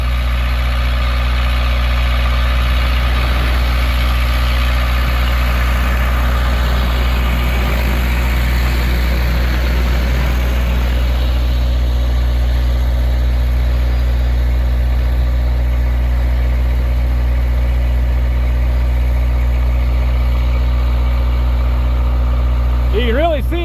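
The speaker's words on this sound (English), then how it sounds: "So you'll probably hear a rumble in the background, but that's just a diesel generator." A diesel generator on a farm rumbles steadily with a deep, constant low drone and a mechanical hum that holds throughout, loud and unchanging, with faint whining tones rising near the end.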